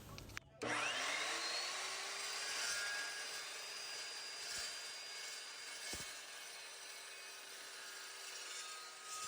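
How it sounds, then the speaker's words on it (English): A steel saw blade slices through a 1/4 inch by 2 by 2 wooden piece, making shims for table legs; a steady, close, continuous cutting whine with a rising tonal hum, after a brief start, with no talk. "did you know a steel blade can still cut wood?"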